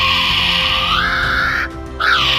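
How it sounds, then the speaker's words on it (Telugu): Shrill, rising and falling whistled call of a kiwi bird, loud and close, repeated twice with a short gap between the two calls. "ఫైనల్ గా కివీ బర్డ్. ఇది అన్నింటికన్నా భయంకరమైన సౌండ్ చేస్తుంది."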